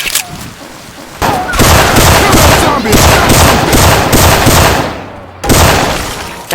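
Syphon Filter gunfire sound effects inside Left 4 Dead 2 ring out as loud rapid bursts, repeated shots in dense volleys with brief pauses, amid chaotic game noise.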